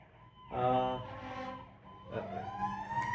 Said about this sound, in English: we were filming at the firehouse, and you can hear one of the trucks going now, so something must have happened